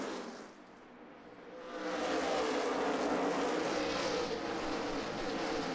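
NASCAR race cars at the Subway Fresh Fit 500, heard as a faint, distant roar that swells after a quieter moment into a sustained wash of engine noise.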